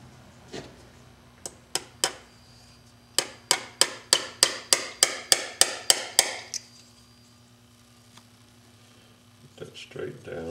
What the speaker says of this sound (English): And then we nail it into place.